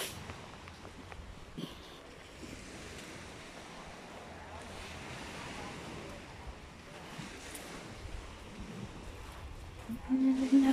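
Ocean surf washing onto a beach near a helicopter landing site, with steady wind buffeting the microphone; a broad continuous wash of waves that swells and eases, with a louder gust near the end.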